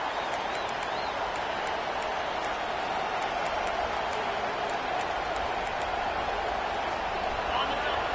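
Stadium crowd noise in the NCAA Football 25 video game forms a steady, dense roar of cheering fans throughout, with faint clapping and a commentator talking over it.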